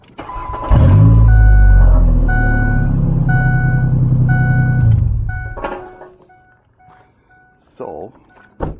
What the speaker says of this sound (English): A muffler. This is what it sounds like.